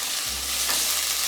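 Red pepper sizzling in a hot frying pan over medium heat, a steady close hiss with no break and nobody talking.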